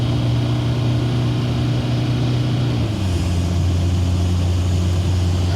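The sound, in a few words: TDI diesel-swapped GMC 1500 truck accelerating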